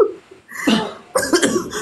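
Two short, harsh coughs in quick succession, close and loud, with a brief pause between them.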